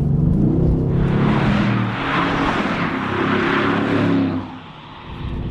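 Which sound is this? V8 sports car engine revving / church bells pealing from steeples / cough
V8 sports car engine revving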